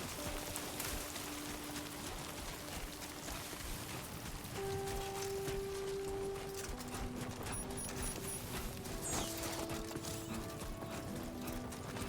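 Timefall rain pattering steadily around a small shelter in a video game, a soft continuous drizzle with scattered drops and faint tonal hums, quiet and unbroken by speech.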